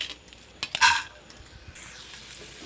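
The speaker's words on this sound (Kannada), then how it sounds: "ಇದೇ ಬಾಣಲಿಗೆ ಇವಾಗ ಕಡಲೆಬೇಳೆ ಹಾಕ್ತಾಯಿದ್ದೀನಿ." Chana dal tipped into a hot pan to roast for vangibath powder: a brief burst of rattling and scraping, then a faint, steady sizzle as it settles, with no one speaking.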